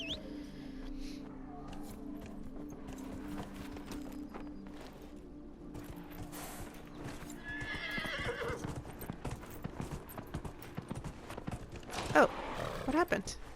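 Horse hooves clip-clopping with whinnies in the game Dragon Age Inquisition, set among music and ambient game sounds, with someone talking over parts of it.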